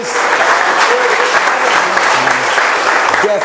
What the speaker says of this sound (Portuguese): Glória a Deus, aleluia, aplaudindo o nome desse Deus